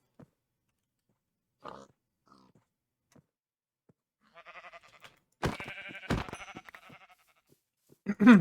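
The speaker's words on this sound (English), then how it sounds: "Our first naturally spawning pink sheep of the series." A pink sheep in Minecraft bleats in short clustered bursts amid quiet game sounds and scattered clicks, with a few louder bleats toward the end.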